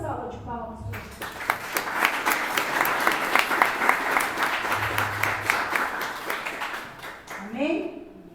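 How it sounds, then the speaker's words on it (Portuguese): Dense applause from a church congregation swells after a brief voice, sustained as steady clapping for about six seconds, then fades as talking resumes at the end. "Dê uma salva de palmas para você."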